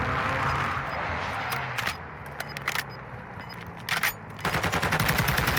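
Gunfire crackles between two enemies in the Warzone 2 video game, a loud opening burst of machine-gun fire, then sharp scattered shots and short rapid bursts at a middle distance.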